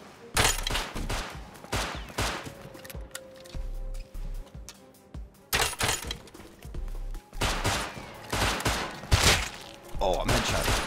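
Rapid bursts of gunfire from the survival game Rust crack out in repeated close volleys with short gaps, loud and sharp, while a player talks over parts of the fighting.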